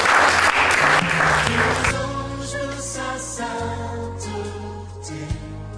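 A church congregation at a francophone service in London claps and cheers loudly for about two seconds, the applause then fading under a sustained organ or keyboard chord that continues alone.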